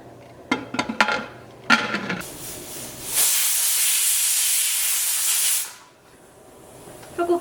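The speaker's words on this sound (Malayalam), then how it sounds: "ഇപ്പോൾ കുക്കറിൻ്റെ ഉള്ളിൽ നിന്ന് ഒരു വിസിൽ വന്നിട്ടുണ്ട്." A pressure cooker whistles while beef cooks on the stove, a loud, steady, hissing jet of steam lasting a few seconds after some brief clatter, then cutting off.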